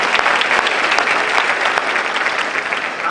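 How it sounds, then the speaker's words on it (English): Dense, steady applause from an audience at the Urban League Red Gala in Fort Lauderdale, a loud continuous wash of many hands clapping throughout with no break. "So a round of applause, please, for Colin."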